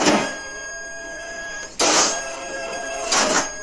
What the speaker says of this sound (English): with a printer sound and the cat is hitting it